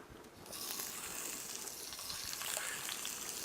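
Three shrimp hit a hot pan of canola oil and sear with a sudden, loud, steady sizzle and hiss that starts half a second in and stays strong to the end, with no voice over it.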